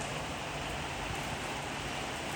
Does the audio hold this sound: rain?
yes